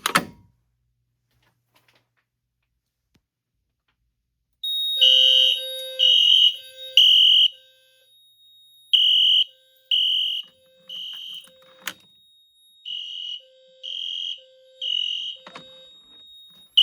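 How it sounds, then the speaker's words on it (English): A fire alarm sounds after a Simplex T-bar pull station is activated: after several seconds of near silence, loud electronic tonal beeps start, sounding in uneven groups of pulses with brief gaps, plus a few sharp clicks. "we're going to pull activate the Simplex T-bar"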